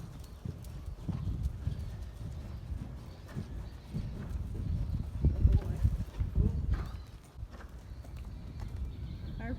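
A gaited horse canters on soft ground, its muffled hoofbeats thudding in a loose rhythm throughout, fairly close, with faint voices in the background.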